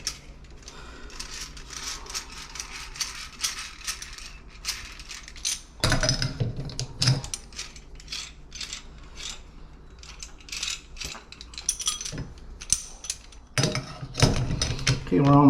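Tool work loosening a three-handle Price Pfister tub fixture manifold during a rebuild: continuous metallic clicking, ratcheting and scraping, close up, with louder clanks partway through and near the end.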